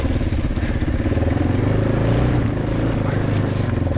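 A quad bike (ATV) engine drives uphill with a loud, close, continuous throbbing drone that stays steady throughout.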